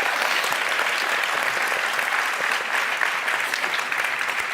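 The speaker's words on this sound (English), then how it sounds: "Can we give a round of applause to the gentleman here?" A large crowd at a convention hall applauding, a dense, steady roar of clapping throughout with no break.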